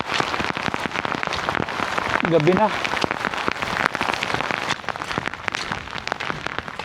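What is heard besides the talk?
rain getting heavier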